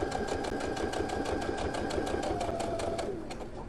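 A sewing machine runs steadily while stitching the binding edge of a quilt, giving a continuous fast rhythmic whir with regular needle ticks, close and alone, easing off slightly at the end.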